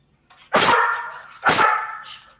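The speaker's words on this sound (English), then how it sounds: "That dog got a full-on mic for his." A dog barks loudly twice, about a second apart, each bark sharp and close with a brief trailing whine, over a quiet background.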